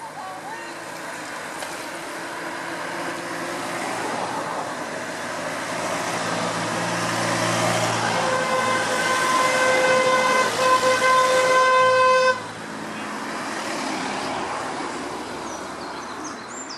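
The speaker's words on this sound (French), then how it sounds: "On se rend pas compte quand on roule de la circulation. Il y a vraiment beaucoup de voitures." Busy road traffic with many cars passing: a continuous roar of vehicles that swells in the middle, where a sustained horn blares for several seconds before cutting off abruptly, then the traffic rumble carries on.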